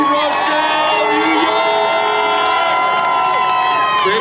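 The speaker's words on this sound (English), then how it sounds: "Keep those hands clapping, keep those noisemakers going." Spectators at the finish of the 49th Holyoke St. Patrick's Road Race clapping and sounding noisemakers, a loud, dense, continuous crowd din with whoops and cheering.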